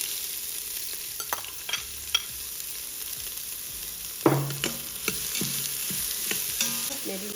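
Spices and ingredients roast in an Instant Pot for coconut milk pulao, with a steady close sizzle and frequent scraping stirs and clinks of a spoon against the pot.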